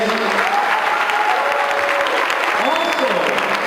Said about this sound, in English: let's have a nice round of applause for our invited guests